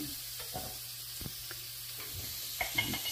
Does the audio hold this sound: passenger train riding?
no